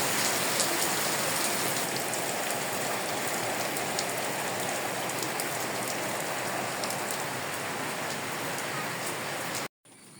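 Steady village rain patters densely on surfaces for about ten seconds as an even wash of sound with no talking, then cuts off abruptly.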